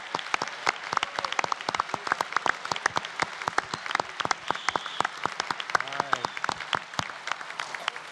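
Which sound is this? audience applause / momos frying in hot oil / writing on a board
audience applause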